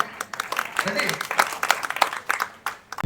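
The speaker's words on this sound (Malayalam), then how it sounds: "എല്ലാവരും കൈയടിച്ച് ഓക്കെ" Audience clapping at a live music tribute concert, a brief burst of applause with sharp scattered claps mixed into a noisy crowd, people talking and calling out over it.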